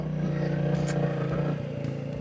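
A Royal Enfield Bullet 350 motorcycle runs at speed with a steady, loud, low engine thump, plus wind and road noise close by, and the engine note eases off slightly near the end.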